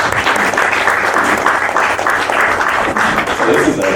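An audience at a movie Q&A screening bursts into sustained applause, dense steady clapping that fills the room from start to finish with a loud, even roar and a faint voice mixed in.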